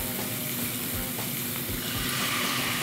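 Bánh xèo crepe batter with pork belly and shrimp sizzling steadily in a hot skillet over a coal stove, a dense continuous frying hiss with no talk.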